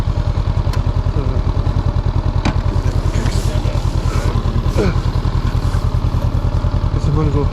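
A Honda CB500F motorcycle engine idles steadily up close with a fast, even low throb and some mechanical clatter, while a person moves about nearby.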